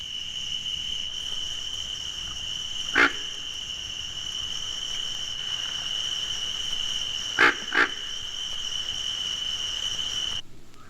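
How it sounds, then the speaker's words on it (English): A dense chorus of cricket frogs keeps up a steady, high, shrill trill throughout, while a pig frog in the background lets out a few short, low grunts, one early and a quick pair later. "Its single grunt can be heard in the background of a chorus of cricket frogs."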